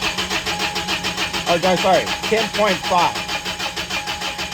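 A car engine cranks in repeated rhythmic bursts without catching during a battery load test, with the starter pulsing steadily while someone speaks briefly over it.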